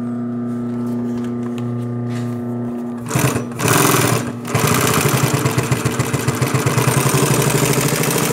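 A twin-needle sewing machine, model 20606, stitches through thick vinyl folded in three. After a few quiet seconds the machine starts up close and loud, running in a fast, steady mechanical chatter with no talking.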